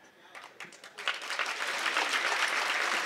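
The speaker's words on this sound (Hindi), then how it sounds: "ताली यहाँ नहीं बजानी थी" Audience applause at a Hindi comedy poetry gathering, starting as a few scattered claps and swelling into dense, steady clapping that fills the rest of the moment.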